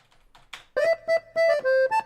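Accordion plays short sustained chords in a rhythmic pattern with added reverb in a mono mix, entering after soft scattered sounds and pulsing in four or five held notes, close and clear.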